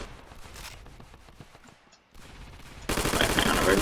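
Modern firearms fire in the video game Ravenfield as rapid bursts of crackling shots, followed by a louder, denser stretch of gunfire near the end.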